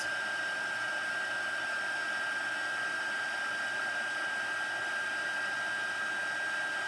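A heat tool blows a constant, steady rushing hiss with a thin, high whine while it heats embossing powder for wet embossing, running alone without pause.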